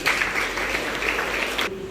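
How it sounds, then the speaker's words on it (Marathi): An audience at a blood donation and medical camp applauds, the steady, fairly loud clapping filling the short stretch before fading out. "आपण त्यांच्यासाठी पण टाळ्या वाजवूया."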